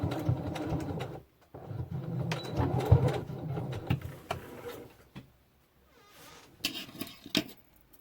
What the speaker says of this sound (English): I'm fastening the seam here.